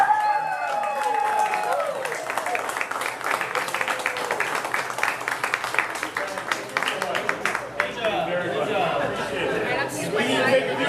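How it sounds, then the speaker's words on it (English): Crowd at a charity ice cream eating challenge clapping and chattering together, brisk applause mixed with loud talk and cheering voices, thinning toward the end. "A big round of applause for all of our."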